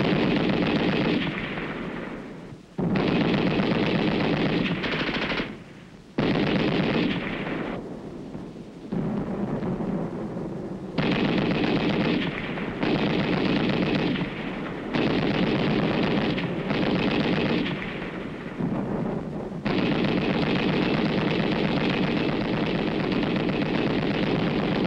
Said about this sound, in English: Allied troops open fire with machine guns on an enemy-held area